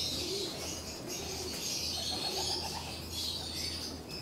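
Racing pigeons coo softly in a loft amid a busy background hiss, low gurgling calls repeating through the clip, with faint chirps and rustling.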